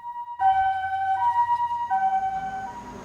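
An ambulance siren wails loudly and close by, its steady two-tone warble continuing alone for about three seconds after a brief quiet start.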